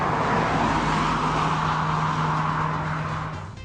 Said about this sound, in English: So now we're driving the Jetta GLI, and this has the dual clutch transmission from Volkswagen called DSG